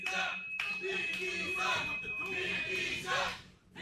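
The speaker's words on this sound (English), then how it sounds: "And listen to that crowd." A large wrestling crowd roars and cheers continuously at a distance, swelling and dipping, with a faint steady tone running through much of it.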